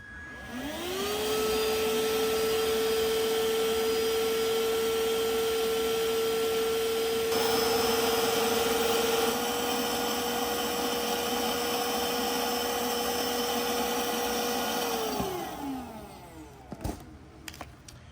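An Etenwolf Vortex S6 cordless air compressor runs continuously to inflate an air mattress, with a loud, steady motor whine and airflow hum that starts abruptly, holds, then winds down and stops, followed by a few clicks.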